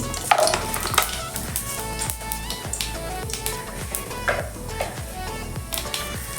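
Whole spices, including cumin seeds and a dried chili, crackling and sizzling in hot oil, a steady frying hiss with occasional pops, under a layer of background music.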